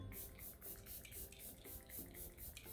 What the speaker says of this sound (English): I'm just gonna go in again with this spray mist and kind of just set everything in place